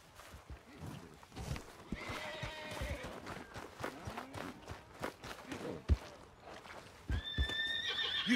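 A horse whinnies loudly while hooves clop and shuffle close by in the video game Red Dead Redemption 2, with scattered movement noises and a second neigh near the end.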